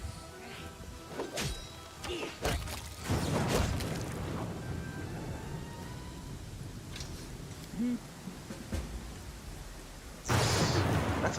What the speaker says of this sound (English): this storm is pretty awesome